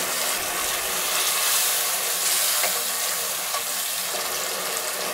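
Sliced potatoes fry in hot oil in a pan for a prawn and potato curry, making a steady, close, dense sizzle that continues evenly throughout without speech.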